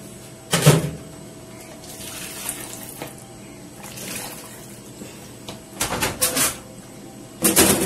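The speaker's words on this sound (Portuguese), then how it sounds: "Vou cobrir aqui o macarrão com água quente." Hot water poured over pasta in a pressure cooker splashes in short bursts: one near the start and a cluster toward the end. Quieter kitchen clatter fills the gaps between pours.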